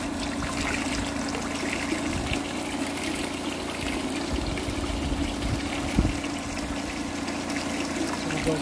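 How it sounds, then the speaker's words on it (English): Water rushes steadily through a gold turbine super sluice, washing weights and heavies toward the end; a continuous broadband flow with a faint low hum, one brief knock near the end. "separating the weights from the headies by water coming out through the bottom"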